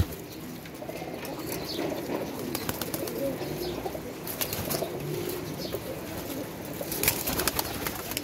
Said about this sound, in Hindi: और कबूतर आप सब आपके सामने ही है।